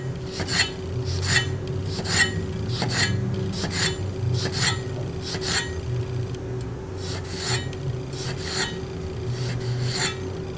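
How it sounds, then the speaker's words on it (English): A knife slices thin pieces of tomato with a rhythmic series of short rasping strokes, about a dozen evenly paced cuts against a cutting surface with a steady low hum behind them. "We're going to do some thin slices."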